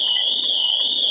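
A Pandora Elite car alarm fitted to a Nissan GTR, armed and unable to switch off, blares a steady, loud high-pitched electronic tone that holds continuously throughout.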